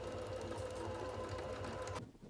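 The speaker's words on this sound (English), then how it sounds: "Now sew on your ReMode label along the back neck edge on the lining." A sewing machine runs steadily, stitching a label along the back neck edge of a smock dress lining, a close, even whir that cuts off abruptly near the end.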